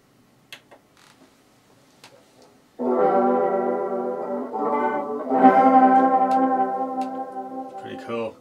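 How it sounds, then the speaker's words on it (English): An electric guitar through an amp, first played briefly and faintly, then sustained chords ring out loud with a shimmering chorus effect, one strum after another for several seconds. "now I'm going to add some chorus."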